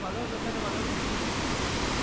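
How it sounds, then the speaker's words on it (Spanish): The first cascade at Miguel Hidalgo Zacalapa, a dense, steady roar of falling water that stays loud and close and does not change. "Llegamos a la primer cascada"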